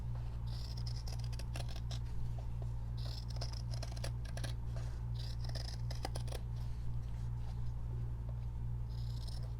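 Scissors snip around fabric interfacing in a sewing project. The cuts come as faint, irregular crisp clicks over a steady low hum in a quiet room.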